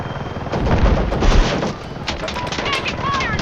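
Rapid bursts of machine gun fire rattle through a loud battle din in Battlefield 6, with bright staccato cracks and rumbling booms layered over continuous noise.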